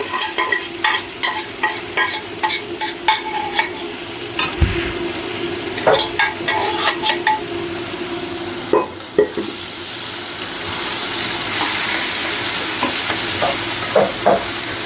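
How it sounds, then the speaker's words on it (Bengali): Pointed gourd and potato fry in oil in a small wok: a quick series of spatula scrapes and clinks over a close, loud, continuous sizzle that swells toward the end. "এখন আমি ভাজবো কিছু ভাজি তেলে দিচ্ছি ভাজিটা পটল আর আলু"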